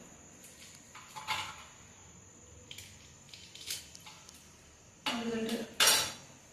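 A knife cutting through a red-fleshed fruit, a series of scraping, clicking cuts and knocks against a surface, irregular and close, growing louder toward the end, with a short spoken word partway through.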